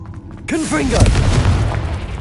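A Confringo blasting spell bursts with a deep, heavy boom in Hogwarts Legacy, its rumble rolling on after a brief cast whoosh, loud and close.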